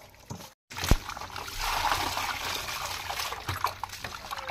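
Pieces of fish, cleaned with rock salt, are washed with water, giving close trickling, splashing and sloshing sounds with a short pause near the start, a few soft knocks and no one talking.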